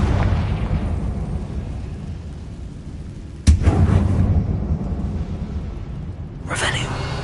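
A Confringo spell in Hogwarts Legacy detonates inside a closed mine with a sudden loud blast and rumbling aftermath, followed later by a second crackling burst, over a low ambient drone; a voice speaks beforehand.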